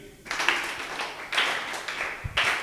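A classroom of students claps for a classmate in a math lesson: three short bursts of mixed hand clapping, fairly close, each swelling and then breaking off, with no voices over them.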